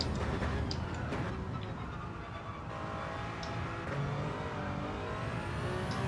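The Toyota GR010 race car engine drones steadily in a racing video game at Sardegna, a continuous mid-level hum with mild revving and no talk over it.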